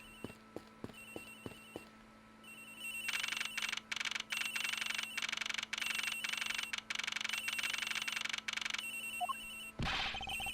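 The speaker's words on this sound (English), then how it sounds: "It sounds like the phone is up in the flight attendant's room." A telephone rings in the Ace Attorney Investigations video game, in repeated electronic bursts that continue steadily for several seconds. A few soft taps come before it, and the ringing stops near the end with a brief rushing noise.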